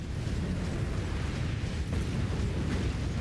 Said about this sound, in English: The game ends with an explosion chasing you down a hallway.